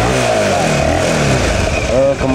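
Kawasaki Ninja 250 mono single-cylinder motorcycle engine revs up close and loud, its droning tone rising and falling as the throttle is worked, before dipping briefly at the end.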